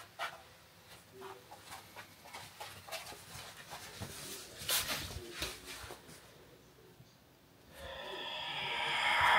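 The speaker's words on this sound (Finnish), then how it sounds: "Meille tuli uusi perheenjäsen ja Paavo koiranpentu toi vähän lisää haastetta." A young puppy snorts, snuffles and whimpers close by, in short irregular bursts over faint clicks and rustling, ending in a rising steady hiss.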